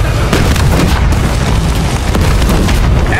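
Tank gun explosion in the video game Call of Duty Black Ops 6, set at an airport with a T-72 tank: a loud, continuous roar of blasts and heavy rumble, dense and saturated throughout.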